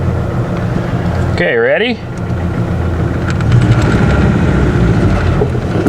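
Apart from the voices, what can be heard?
2013 Ford F truck engine running while testing clutch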